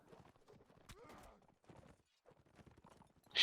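Hooves of a heavy horse clip-clop in a strategy video game, a quick run of close hoof knocks with faint game noise between them, and a sharp burst at the end.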